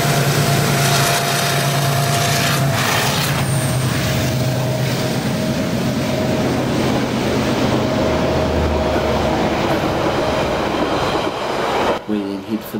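The TranzAlpine Express on New Zealand's coast-to-coast line runs at full throttle, a loud, sustained diesel roar with rumbling wheels and rail clatter that drops off sharply near the end.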